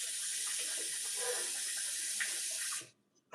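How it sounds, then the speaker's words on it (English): Rice being rinsed under running water from a kitchen tap, a steady close hiss of flowing water for nearly three seconds before the stream cuts off abruptly. "This rice needs to be rinsed literally before I put it away."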